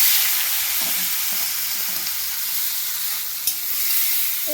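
Onion drops into hot oil with a cinnamon powder tempering, a steady bright sizzle with faint stirring taps underneath, close and continuous, no voices.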